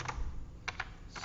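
A few separate computer keyboard keystrokes, close and fairly quiet, spaced out in a short burst over low room noise.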